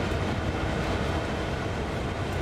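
A moving train in the simulator Train Sim World 2, heard as a steady, broadband rumble and rolling hiss from the rails, constant and close throughout with no distinct clanks or speech.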